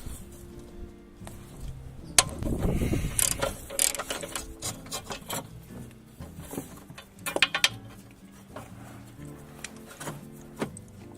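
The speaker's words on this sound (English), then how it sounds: "First you want to undo the bolts holding the bar in place. These are 15mm bolts." A ratchet wrench undoing 15mm bolts on a Jaguar X-Type 2.0 diesel, with close, crisp clicking bursts of the pawl, brief pauses and a few metallic knocks, no talk.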